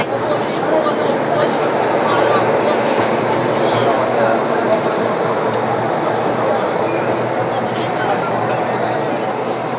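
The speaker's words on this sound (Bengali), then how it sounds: "তো বন্ধুরা ছেড়ে দিলে কিন্তু আমাদের ট্রেন বিশাখাপত্তনম স্টেশন থেকে।" The Coromandel Express leaves Visakhapatnam station with a steady, loud rolling roar of the moving train. The rumble fills the whole stretch without a break.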